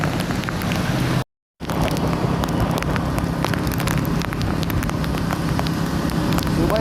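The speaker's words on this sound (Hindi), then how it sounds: "इस वक्त बारिश बहुत ज़्यादा अपने उरूज पर है" Heavy rain pours onto a flooded street in Karachi, a dense continuous hiss with traffic noise mixed in and a brief cut to silence early on.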